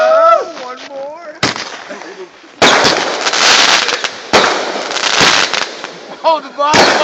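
Fireworks go off nearby in loud cracking bursts and rumbling booms, several separate blasts spread across the moment, while voices call out faintly between the explosions.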